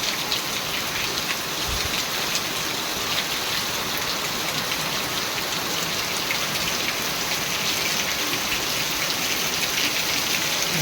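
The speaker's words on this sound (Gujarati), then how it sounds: "વરસાદ તો ચાલુ હોય જોરદાર અંધરાધાર વરસાદ ચાલુ છે" Heavy rain pours steadily throughout, a dense continuous hiss of drops drumming on surfaces, close and loud with no pauses.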